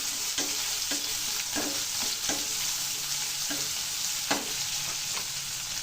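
Green chillies frying in a pan for semiya upma, giving a steady sizzle with repeated scraping stirs of a spoon at an uneven rhythm, close and alone with no talk.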